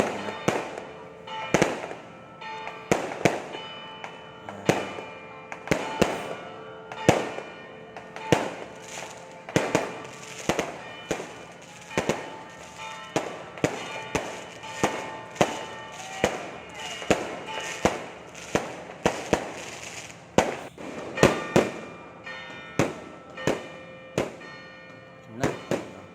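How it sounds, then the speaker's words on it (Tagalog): Fireworks burst repeatedly over about half a minute at a religious procession for the Virgin of Caridad in Agoo, sharp loud bangs at irregular intervals with crackling between them. "pagpasok ni Mama Mary sa naman, fireworks naman tayo."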